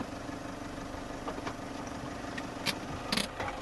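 An off-road vehicle engine idles on a steep grade-4 climb, a quiet steady low hum with a few faint clicks and brief rattling bursts near the end, with no voices.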